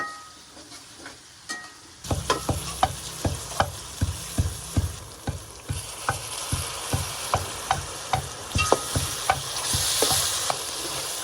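Tomatoes and crushed ginger stirred into sizzling oil in a pan, with a steady frying hiss and a regular series of scraping spatula strokes, close and clear with no talk.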